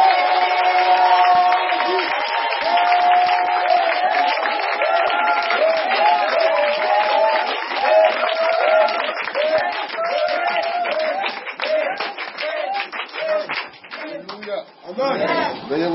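Church congregation applauding and cheering for Jesus during a service, a steady wash of clapping and voices that holds strong throughout before thinning toward the end, with singing or shouted voices mixed in.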